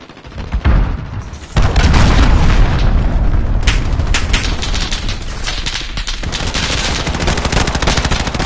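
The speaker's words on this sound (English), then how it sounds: "Hello, cruise missile away." A cruise missile strike in Modern Warfare lands as a heavy boom, followed by a sustained roar of explosions and rapid gunfire that stays loud throughout.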